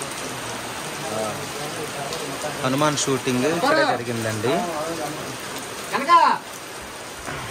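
Steady rain falls at a hilltop viewpoint in the Lambasingi hills, a soft constant patter running beneath someone talking close to the microphone.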